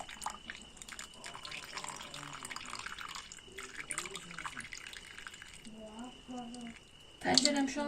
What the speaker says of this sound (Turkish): Gördüğünüz gibi akan su bile zaten kıpkırmızı şu anda.